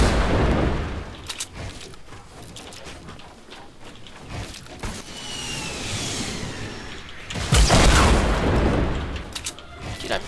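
Rocket blasts and gunfire in a shooter video game, a dense run of booms and shots with a loud burst near the end, mixed with game noise.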